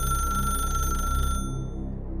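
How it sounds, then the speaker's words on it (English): A rotary telephone in a bedroom rings with a shrill, mechanical bell, one continuous ring lasting over a second before cutting off, heard from across a house over a low background rumble. "Then the phone rang a 3rd time."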